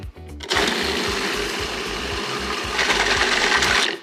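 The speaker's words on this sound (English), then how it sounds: "We're using a food processor today" A food processor grinds black beans for brownie batter, a loud, steady whirring motor with a rhythmic chopping churn that starts abruptly, runs continuously for several seconds, then cuts off.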